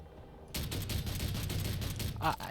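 Handheld weapons fire in the Space Engineers video game, a dense burst of rapid gunshots starting abruptly after a short quiet lead-in, loud and sustained with a sharper blast near the end.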